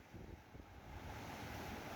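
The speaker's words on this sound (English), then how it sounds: "Look at those waves, people." Large ocean waves surge against the Jamaican coast in strong wind, a steady broadband roar of surf with wind buffeting the microphone throughout, fairly distant and continuous, no talking.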